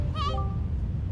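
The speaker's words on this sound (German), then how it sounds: "Meine Katze ist gerade hier und sagt euch allen Hallöchen." A house cat lets out one brief, close meow, then quiet follows over a constant low indoor hum.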